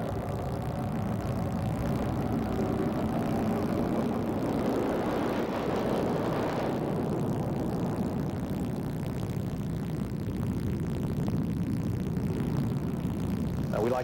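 Military jet aircraft, F-15 Eagles flying together, heard as a steady, fairly loud broadband roar that swells and rumbles throughout without pause.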